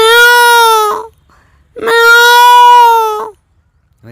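Two long, wavering meows made by a man imitating a cat come loud and close, one after another with a brief gap between them and no other sound around.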